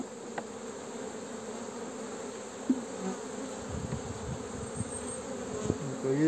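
Honey bees buzzing at a beehive after cold, rain and storm in April, a dense continuous hum of many insects close by, with a few soft knocks and rustles from the hive.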